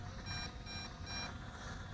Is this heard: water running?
no